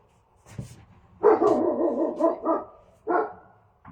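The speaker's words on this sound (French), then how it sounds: "Faut que je dise à mon chien de se taire" An indoor house dog barks several times nearby, with short loud bursts and a drawn-out yelping bark in the middle. Quiet stretches fall between the barks.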